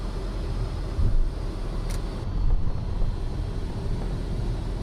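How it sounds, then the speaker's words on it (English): An aircraft auxiliary power unit and jet engine rumble steadily near a hangar in Microsoft Flight Simulator 2024, a constant broadband drone with slight swells and no voices. "Yeah, some of these APUs are loud."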